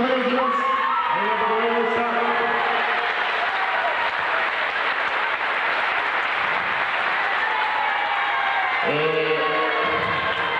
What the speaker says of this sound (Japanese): 惜しみない拍手をお願いします。